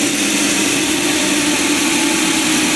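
A power sander, a disc sander in a school workshop, runs with a steady, loud, broadband whirring drone that holds evenly throughout, with no voices.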